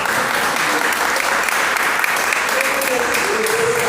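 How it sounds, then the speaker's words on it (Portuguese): Congregation clapping during a Portuguese-language church family service, a dense continuous wash of hands throughout, with voices faintly underneath. "as palmas do Senhor"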